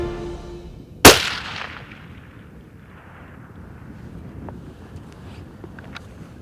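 A single loud, sharp rifle crack fired at a management deer roughly 875 yards away, downhill across open country, followed by a brief decaying echo over steady wind noise.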